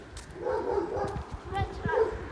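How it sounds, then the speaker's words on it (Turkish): Dog barks and yips sound at moderate distance along a street near historic sites, repeating irregularly under people talking close by. "Ay köpek var gelmeyin."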